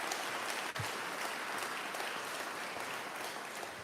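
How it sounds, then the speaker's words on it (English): Crowd applause at a fire rescue station grand opening, honoring the local city: a continuous wash of many hands clapping at a moderate distance, steady and even, with one brief dip early on. "let's give a big round of applause for Riviera Beach"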